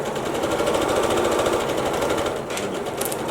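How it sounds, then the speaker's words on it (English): A sewing machine stitches fabric along a straight line with a fast, steady mechanical chatter, close and fairly loud, slowing slightly near the end with a couple of light clicks. "I'm gonna put it back down and sew back against the straight line again."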